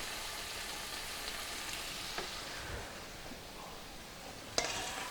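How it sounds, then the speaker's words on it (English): Steak sizzles in a hot fajita pan with a steady, even hiss, moderately quiet and close, broken by a few faint clinks and one sharper tap near the end. "I think I'm going to put the steak in now."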